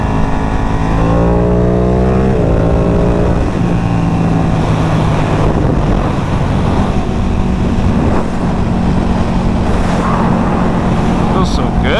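A Ducati Panigale V2 sportbike engine revs hard and upshifts quickly with a quickshifter, the pitch climbing then dropping with each gear change, loud and close over heavy wind rush.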